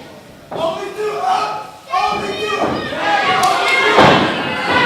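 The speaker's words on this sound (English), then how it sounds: "What a snap suplex from Damien Angel." Heavy thud of a wrestler's snap suplex slamming onto the ring mat at an independent wrestling show, a loud impact followed by further thumps and crowd noise.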